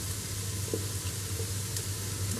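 Onions frying steadily in a pan, a soft, continuous sizzle over a low background hum, with no talking.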